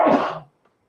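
A single short sneeze or cough during a lecture, loud and close, a brief burst fading within half a second, followed by quiet.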